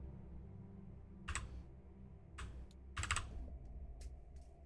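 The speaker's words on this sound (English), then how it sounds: "apologies for the keyboard and mouse ASMR you might be hearing." Keyboard and mouse clicks right beside a close microphone during a game development session, arriving in short bursts of rapid typing separated by quiet gaps, crisp and near against a soft background hum.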